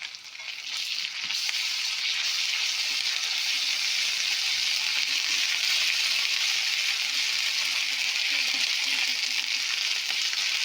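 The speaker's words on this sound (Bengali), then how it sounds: "একটু ভাজা ভাজা হয়ে গেছে পেঁয়াজ আর রসুনটা। এবার আমি দিয়ে দেবো" Ginger paste sizzling steadily in hot oil with browned onion and garlic in a pan while cooking ilish biryani, a continuous close, even frying hiss with no talking.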